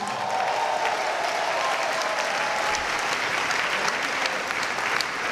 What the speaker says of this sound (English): you need to clap your hands